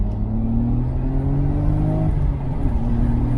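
A Nissan Skyline R34 GTR V-Spec pulls away with a steady, droning engine note that slowly rises in pitch, heard close and continuous for a few seconds with no talking.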